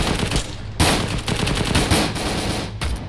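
Vehicle-mounted gunner in ARMA 3 firing rounds in loud, sustained bursts that open with a sharp onset and run as dense, rapid gunfire, with a brief pause before another burst near the end.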